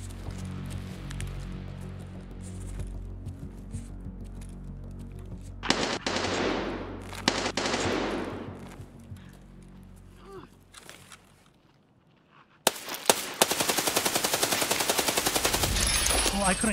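Automatic rifle fire erupts in Escape from Tarkov: a few loud single shots and short bursts, then a long sustained string of rapid gunfire near the end, with quieter footsteps and movement before it.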